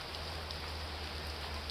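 Heavy tropical downpour on Koh Samui, Thailand, a dense, even hiss of rain on surfaces, steady and moderately quiet with no talking.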